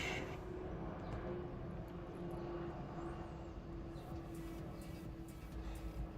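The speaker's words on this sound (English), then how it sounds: "sorry if you guys hear the airplanes" Faint, steady airplane drone passing overhead outside an indoor room, a low continuous engine hum with a distant whine, heard alone with no speech.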